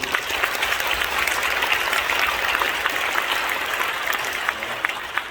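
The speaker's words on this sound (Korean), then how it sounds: "먼저 하나님께 감사의 박수 한번 올리겠습니다" Sustained applause from a church prayer-service congregation at a Korean War veterans' remembrance gathering in a Washington hotel, a dense, even wash of many hands clapping throughout with no talk.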